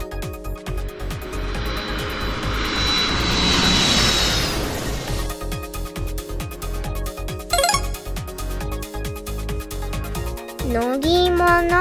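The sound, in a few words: airplane engine sound effect in children's animation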